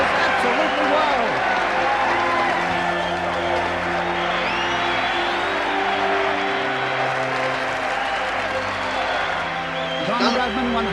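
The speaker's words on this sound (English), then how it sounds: "The crowd goes absolutely wild." A large cricket ground crowd roars and cheers as Don Bradman reaches his century during the Bodyline Ashes series, with sustained applause and whoops from a dense, continuous mass of spectators.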